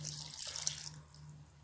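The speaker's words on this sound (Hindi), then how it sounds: "1 गिलास पानी डाल देंगे।" Water poured into a pan of pav bhaji vegetables (brinjal, carrot, peas, capsicum and tomato), a short splashing pour that fades out after about a second, with a steady low hum underneath.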